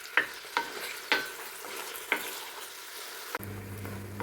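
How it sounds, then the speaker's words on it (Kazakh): Meat sizzles in hot oil in a kazan, a soft steady frying hiss broken by several sharp clacks of a utensil stirring against the pot, then a low hum takes over near the end. "Етімізді жақсылап, су көбігі кеткенше қуырып аламыз."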